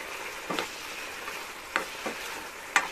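Dried fish (tuyo) frying in a pan, a steady soft sizzle with a few sharp crackles and pops spaced out over a quiet, even hiss.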